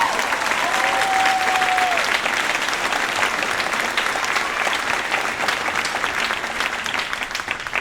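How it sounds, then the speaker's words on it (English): An indoor crowd applauds a marching band's awards, with steady, dense clapping throughout and a brief cheer or whistle near the start. "Go ahead, you can clap for that."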